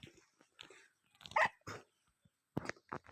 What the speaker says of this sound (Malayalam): ഞങ്ങൾ പട്ടി കുരക്കുന്നുണ്ട്